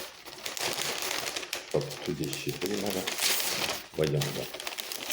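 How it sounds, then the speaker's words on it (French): A paper page of a storybook is turned with crinkling and rustling, a few close crackly bursts heard under a person speaking softly. "c'est compliqué de tourner la page des fois"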